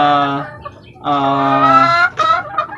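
Loud, close clucking from pet chickens being washed with shampoo, in several harmonic bursts, one drawn-out squawk running into the next with brief gaps between calls.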